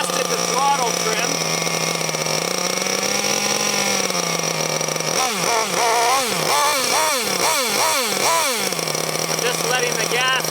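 Small gas engine of a Losi LST XXL2 1/8-scale RC truck running loud and close, a steady buzzing idle that rises and falls through a string of quick throttle blips in the second half.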